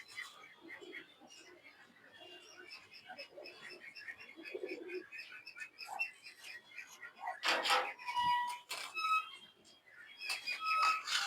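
Low pigeon coos come in short bursts under scattered chirps and other voices, with some louder clattering knocks toward the end.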